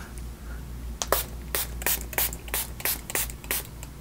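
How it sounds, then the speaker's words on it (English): A spray bottle of facial toner for oily, acne-prone skin is pumped in a quick series of about nine close, crisp spritzes. "A couple sprays."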